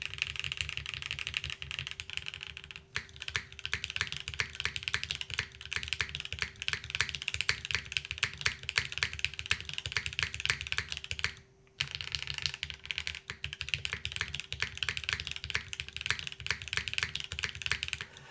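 Fast, continuous typing on a QK101 mechanical keyboard: dense, even clacking keystrokes up close, with one brief pause partway through before the rapid typing picks up again.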